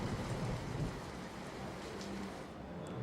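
Heavy rain in Amreli pours steadily as a dense, continuous roar, with a low rumble underneath and no voices.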